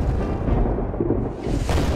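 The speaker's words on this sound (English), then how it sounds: "Clinton responds in kind with howitzers and cannon." Howitzers and cannon fire in a Revolutionary War battle reenactment at Monmouth Battlefield, a heavy, rumbling low boom that rolls and sustains without sharp separate shots and without voices.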